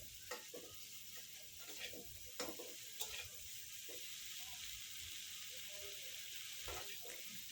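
Tatkini fish frying in a good amount of oil makes a faint, steady hiss, with a few soft bubbling pops and light utensil knocks in the first few seconds.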